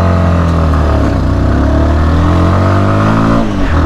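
A SYM NH Trazer 190i motorcycle pulls uphill in first gear, its engine note loud, close and steady with rising harmonics and a brief dip near the end, no voices over it.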